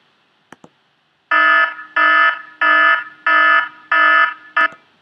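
An electronic alarm sound effect from iMovie plays six loud, evenly spaced buzzing beeps, the last one cut short, after two faint clicks, with no voices.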